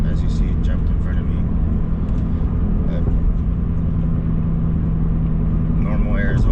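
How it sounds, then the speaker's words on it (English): Cars on an Arizona road pass close by as the vehicle drives, a steady broadband road and engine rumble that stays loud throughout, with a sustained low drone and a voice speaking over it. "Vehicles passing me."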